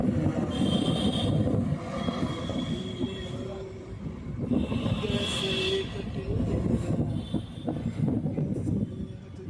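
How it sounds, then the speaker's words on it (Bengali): A train rolls along rails in Kolkata, a steady, loud rumble with faint wheel squeal and clatter running throughout, no speech. "মৌলালি ট্রেন করে আমরা এখন যাচ্ছি আমাদের গন্তব্যস্থলে পদ্মপুকুর।"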